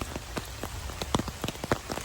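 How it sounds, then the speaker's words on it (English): Rain falls beside a water-filled creek, with scattered close droplets tapping in an irregular patter over a soft steady wash of water, quiet and without voices. "the creek is filled with water because of course it's raining"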